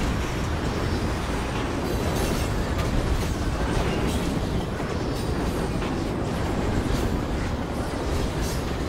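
A train rolls along rails in the Call of Duty: Ghosts video game, giving a steady, loud, close rumble with rattling metallic clatter and no pause throughout.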